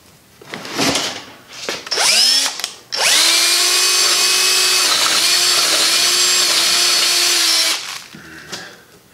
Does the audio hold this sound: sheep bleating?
no